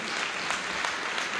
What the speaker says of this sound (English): a round of applause for both of our candidates this evening